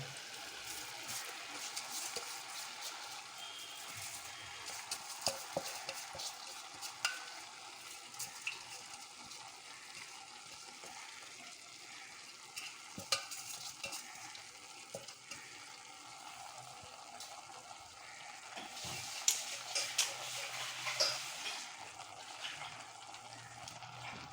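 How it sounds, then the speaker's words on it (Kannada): Washed rice being stirred in a frying pot while making palav: a steady low sizzle with scraping and clinking of the spoon against the pot, quiet and continuous, with occasional louder knocks. "ಅಕ್ಕಿಯನ್ನು ಅದರೊಳಗೆ ಮಿಕ್ಸ್ ಮಾಡ್ತಾ ಇದ್ದೀನಿ"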